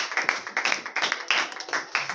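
A congregation in an evangelical church clapping in rhythm to acclaim the Lord: a steady, brisk pattern of many hands beating together, close and lively, with no speech over it.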